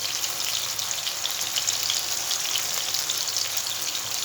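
Spices sizzle steadily in hot oil before yogurt is added, a dense, crackling hiss that stays even throughout, close up with no voices.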